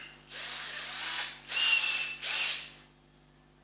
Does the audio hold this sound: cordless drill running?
yes